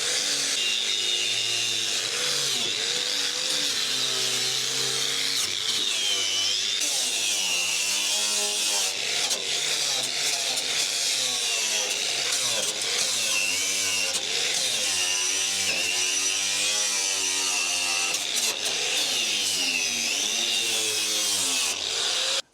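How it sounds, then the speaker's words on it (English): Steel brush scrubbing loose rust off a trailer's steel frame, a steady, continuous harsh scraping with rapid back-and-forth strokes, close and loud throughout with no talking. "A steel brush to remove the loose rust from it"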